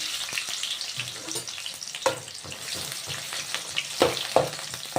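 Onions frying in a pan for a Telugu-style cabbage fry give a crackling sizzle, fairly quiet and close, with a few sharper pops and stirring clinks scattered through it.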